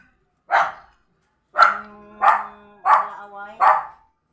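A nearby dog gives five loud, sharp barks, one at the start and then four in a quicker run with a short whine-like tail between the last ones, heard alone without speech.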